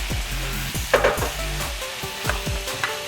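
Kielbasa sizzles as it drops into a pan of sautéing vegetables, a steady frying crackle with a few sharp clacks and stirring scrapes near the mic, no voices.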